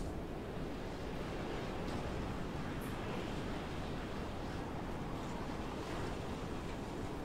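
A steady, roaring gust of hurricane-strength wind in the game Mad Max blows without pause, broad and rushing like a storm, with no voices.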